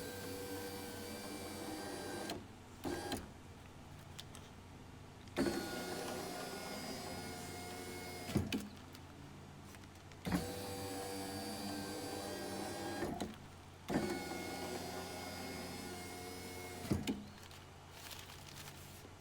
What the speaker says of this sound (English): this is the unit already fitted to the passenger right side, and this is the testing of the unit.